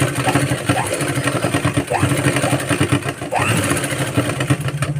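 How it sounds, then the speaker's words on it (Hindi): Steady, loud motor hum and rapid needle chatter of a sewing machine stitching a saree belt with elastic, continuous and close throughout with small surges in speed. "दूसरे तरफ हमें अच्छे से पक्की सिलाई कर लेना है।"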